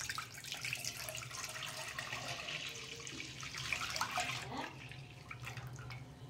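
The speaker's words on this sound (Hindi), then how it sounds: "ठंडा दूध है। अब इसको इसमें डाल देंगे।" Cold milk, about a litre, poured into a wok that already holds a cup of water, making a steady liquid splashing and gurgling stream that stays fairly loud for several seconds, with no talk over it.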